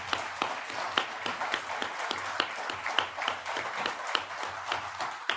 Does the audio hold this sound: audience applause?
yes